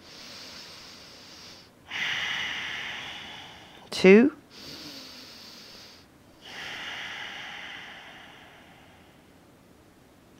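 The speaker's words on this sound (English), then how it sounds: "Breathing for three." Slow, audible breaths through the nose during a yoga breathing exercise, several long airy inhales and exhales with pauses between, close and fairly loud, and a single spoken word breaks in partway through.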